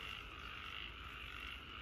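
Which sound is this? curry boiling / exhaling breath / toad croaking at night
toad croaking at night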